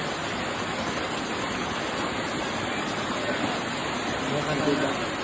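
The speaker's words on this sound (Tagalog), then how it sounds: "Lagyan natin ng tubig." Water poured steadily into a cooking pot on the stove while preparing a Filipino broth dish, a continuous close splashing rush lasting several seconds with no talk over it.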